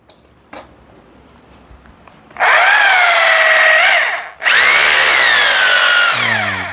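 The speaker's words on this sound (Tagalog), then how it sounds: "Hammer drill siya." A Hilti TE2M hammer drill running in two loud, sustained bursts with a whining motor pitch that rises and dips, separated by a brief stop, after a few light handling clicks.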